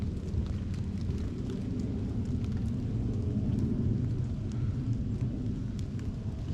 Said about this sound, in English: except that it's raining now